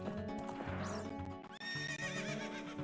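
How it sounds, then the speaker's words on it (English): Epona, the horse in Zelda: Ocarina of Time, lets out a loud, close whinny with a rising then falling pitch, together with clip-clopping hooves near the Gerudo Fortress. "Get off the horse."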